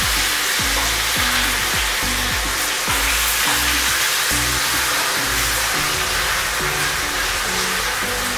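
An ikon air fryer roasting a whole chicken gives off a steady, loud whir of fan and heat, with a faint sizzle under it and a repeating low hum throughout, alone with no talk.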